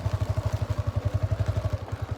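Motorcycle engine pulsing in a fast, steady rhythm with clattering, close and loud, as the bike slips and slides over a badly damaged mountain road in the Bhaderwah valley of Jammu.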